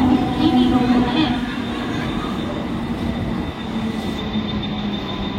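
Mumbai local train standing at a station platform, a steady broadband rumble with a faint high tone, loud and continuous, with voices and platform announcements mixed in.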